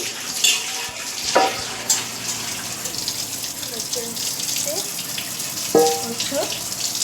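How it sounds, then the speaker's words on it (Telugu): Running tap water gushes and splashes over a large bowl being washed, with occasional clunks of the bowl, heard close up without talking. "దాన్ని అయితే ఇప్పుడైతే వాష్ చేస్తుంది మా మమ్మీ"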